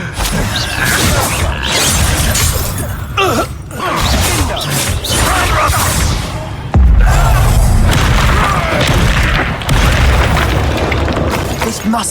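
Spell explosions from the Bombarda charm in the video game Hogwarts Legacy, heavy booming blasts with rumbling impacts and whooshes, mixed with people speaking and game effects, loud and dense.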